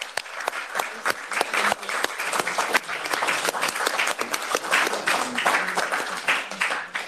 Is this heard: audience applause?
yes